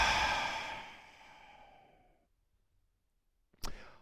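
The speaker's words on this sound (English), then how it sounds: "a cleansing, releasing exhale through the mouth" A long, slow exhale through the mouth during a yoga shoulder-stretch session, a breathy whoosh that fades over about two seconds, then silence before a brief soft breath noise near the end.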